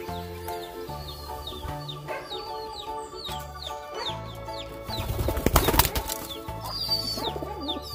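A mother hen clucks repeatedly in short bursts while wings flap loudly in a brief flurry near the middle, with other birds calling faintly around them.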